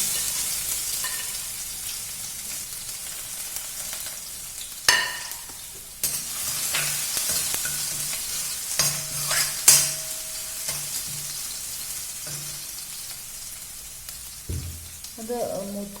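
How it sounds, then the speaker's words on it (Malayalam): Crushed garlic fries and sizzles steadily in hot spiced oil while a utensil stirs it, with a few louder scrapes and knocks against the pan. "വെളുത്തുള്ളി ഒന്ന് ചതച്ചിട്ട് ഇതിനകത്തേക്ക് ഇടാം."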